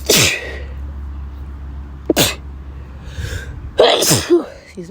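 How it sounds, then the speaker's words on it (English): Several sharp sneezes from one person burst out close and loud, spaced a couple of seconds apart, with quiet room noise between them. "I'm about to sneeze again. I feel it."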